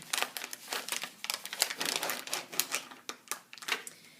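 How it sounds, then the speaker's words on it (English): An IV tubing package is torn open by hand, giving a close, rapid series of crisp plastic crinkles and rustles in irregular bursts. "So I'm going to go ahead and open my tubing."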